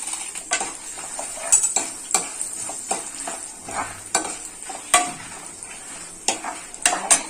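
Dried red chilies are tossed into a hot pan and stirred, giving a thin steady sizzle punctuated by repeated sharp scrapes and clinks of a spoon against the metal pan.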